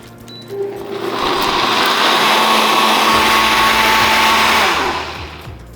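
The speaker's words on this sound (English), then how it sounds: "So first, let's blend this first and then start our sauce." A blender whirs loud and close as it blends spices, white pepper and chili powder for a sauce base, starting up, running steadily at high speed for several seconds, then spinning down.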